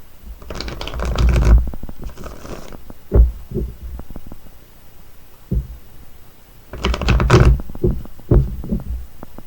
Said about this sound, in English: Now we're going to shuffle up her cards.